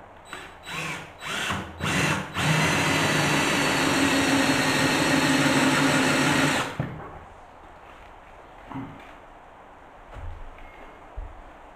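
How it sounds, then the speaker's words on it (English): A power drill whirs in a few short bursts, then runs steadily and loudly for several seconds before stopping, leaving quiet handling noises. "I'm now going to drill through and make the hole there."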